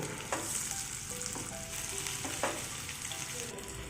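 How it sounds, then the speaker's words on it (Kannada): Marinated fish pieces frying in hot oil with curry leaves on a tawa, a steady close sizzle with a few sharp pops and spatters, no voices. "ಹಾಗೆ ಇದಕ್ಕೆ ಮ್ಯಾರಿನೇಟ್ ಮಾಡಿರೋವಂಥ ಮೀನುಗಳನ್ನ ಒಂದೊಂದೇ ಸೇರಿಕೊಂಡು ಹೋಗೋಣ"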